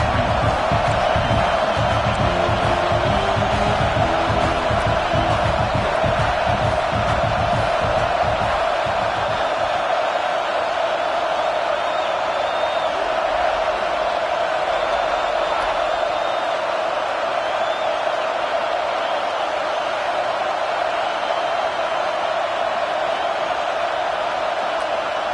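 Loud stadium crowd at a college football game, Clemson at South Carolina, a sustained roaring wall of noise that stays steady throughout, with rumbling low cheers dropping away partway through.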